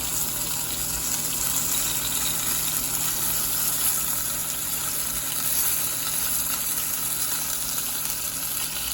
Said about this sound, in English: I heard it back here frying